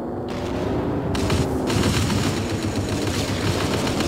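Gunfire in the vehicular combat game Chaos on Wheels, a dense continuous rattle of shots layered over rumbling engine noise, loud and steady with a few brief breaks in the top end and no talk.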